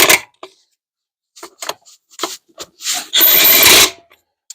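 An impact gun tightens wheel nuts on a Kubota B2601 compact tractor, close by, in several brief rattling bursts and then one longer buzzing run near the end, with quiet gaps between.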